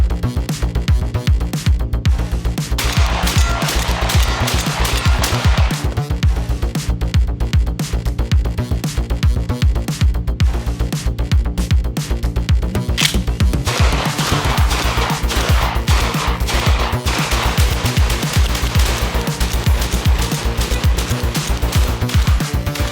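Benelli M4 semi-automatic shotgun fired nonstop in a 500-round durability burndown, a dense, loud, rapid string of booming blasts that runs without a break for the whole stretch.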